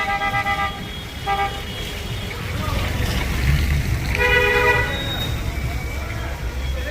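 Slow bumper-to-bumper traffic in Kalam bazaar on a snowy day, with repeated car horn toots and beeps over a steady rumble of idling and crawling vehicles, with voices talking in the crowd.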